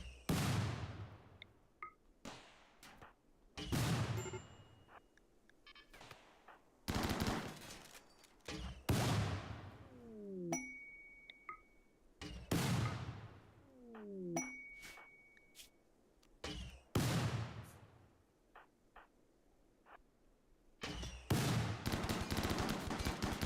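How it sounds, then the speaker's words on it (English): A turret in RimWorld fires repeated bursts of gunfire, sharp loud volleys spaced every few seconds with ringing metallic pings and quieter gaps between them. "it's shooting at the mini turret"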